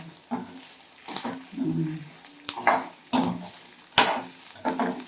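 Rice and coconut dry-roasting in a pan for a fish kulambu, rhythmic scraping strokes of a spoon stirring the grains, each a short rustling sweep with pauses, close.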